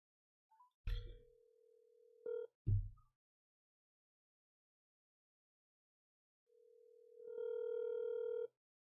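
An outgoing phone call is placed: a few short beeps and clicks, then a steady ringback tone swelling for about two seconds while waiting for an answer.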